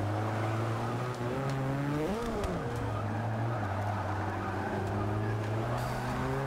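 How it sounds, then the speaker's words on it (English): Opel Manta with a rally engine in Forza 6 revs steadily, its tone rising into a sharp climb and falling back around a shift, then settling into a sustained drone, loud and close with no talk. "this is the rally engine"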